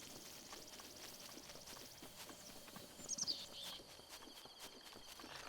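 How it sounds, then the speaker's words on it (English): Horse hooves clip-clop in a steady, quiet walking rhythm in a video game, with a brief cluster of sharper clatter midway over soft ambient background. "And good old horsey."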